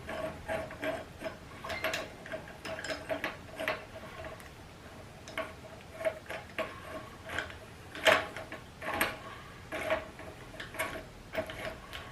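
A wrench ratchets as a pinch bolt is tightened on the front end of a 1968 BSA B44 motorcycle, producing a series of quick, close clicks in short irregular bursts, with no talking.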